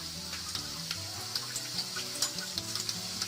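Onions browning in a pan for a Bengali crab curry, with a constant close sizzle and crackle dotted by small pops and faint spatters. No voices.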